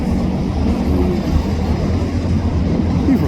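A freight train with a tank car and boxcars rolls steadily past nearby, a dense continuous rumble with faint wheel clatter and no voices.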